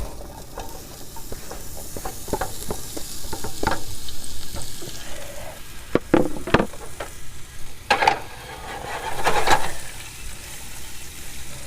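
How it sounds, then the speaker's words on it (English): Sliced peppers and onions fry in a pan on a stove turned down low, a steady close sizzle with irregular sharp clicks and clatters of stirring and utensils against the pan, no talking. "I'm going to throw all these peppers and onions right on in the pan."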